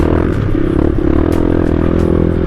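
Loud, close motorcycle engine labouring up a very steep road near Gabaldon, Nueva Ecija. It drones continuously, with some clattering and scraping over the engine note.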